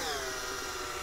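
Power drill motor straining and smoking while in use on a Can-Am, a brief steady high whine with shifting pitch, close and fairly loud.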